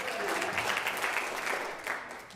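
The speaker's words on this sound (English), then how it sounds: "Can we have applause for technology?" An audience at a gathering honouring a retiring pastor breaks into warm applause, a dense, fairly loud wash of clapping that tapers off near the end.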